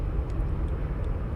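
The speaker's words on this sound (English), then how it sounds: "FedEx 777, getting ready for departure now." Steady low engine roar from a FedEx Boeing 777 preparing for departure at an airport, a continuous broadband rumble with no voices.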